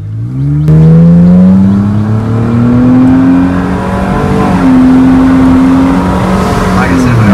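A 2010 Nissan Maxima with a 3.5L V6 accelerates uphill in sport mode, its engine droning loud and close as the revs climb steadily and then shift, heard from inside the cabin.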